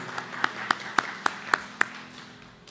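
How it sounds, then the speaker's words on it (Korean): A congregation claps together during a Korean Sunday morning church service. About seven sharp, evenly spaced claps fall in a steady rhythm over a soft sustained tone, with faint voices underneath. "우리 서로에게 축복의 박수 드리겠습니다."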